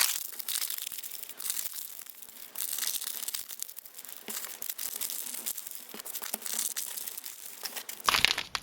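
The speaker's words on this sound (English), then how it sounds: "We're going to crumple up the paper in order to make a good size ball that will represent our head." Recycled paper is crumpled by hand into a ball for a papier-mâché head, a continuous close, crackly crinkling with rustling bursts and brief pauses, ending with a sharper crunch.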